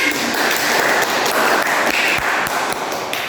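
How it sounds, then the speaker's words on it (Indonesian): Children in a primary school classroom clap together, a dense, steady patter of many hands that holds loudly for a few seconds before easing slightly. "Tepuk tangan."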